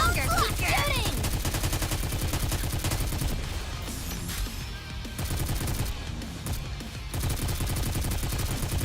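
Rapid gunfire from the video game Goddess of Victory: Nikke, a loud continuous burst of shots mixed with game music and effects, easing briefly in the middle before resuming at full strength.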